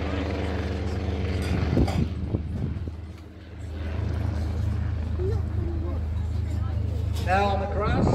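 A helicopter performs at the Old Buckenham Airshow 2017, flying sideways and running on its skids across grass, its steady rotor drone loud and continuous beneath a commentator's voice.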